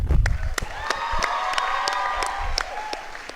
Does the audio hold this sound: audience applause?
yes